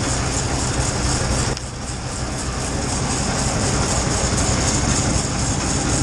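A Super 88 feed grinder runs steadily while mixing feed with mineral added, a loud continuous mechanical roar and rumble from the grinder and auger with a brief dip early on, no voices.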